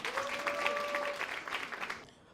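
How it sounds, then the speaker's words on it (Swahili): Audience applause at a comedy show, a burst of clapping from a seated crowd that holds steady for about two seconds and then cuts off abruptly. "jipigieni makofi"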